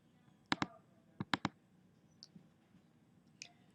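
A computer mouse clicks in close, quiet surroundings: a quick double click, then a tight cluster of three clicks, followed by a few fainter taps; no voices.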